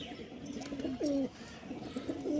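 Pigeons cooing close by in soft, rolling calls, one stronger swooping coo near the middle and more following, over a faint steady background hiss.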